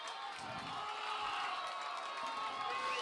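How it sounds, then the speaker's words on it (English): Home crowd at a Paradise vs. Chico high school football game keeps up a steady, broad roar of cheering and shouting, fairly distant and continuous throughout. "This home crowd trying to get loud for their team."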